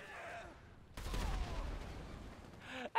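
Gunfire in GTA 5 Online, a sudden heavy burst of shots and a booming blast that sustains and rumbles for a couple of seconds after a quieter start, ending with a sharp loud hit.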